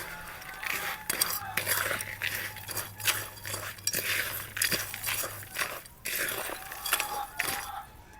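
Crushed eggshell and charcoal mixed in a bowl, with a series of clinking, scraping and gritty rattling strokes in an irregular rhythm, close up, over a faint background hum.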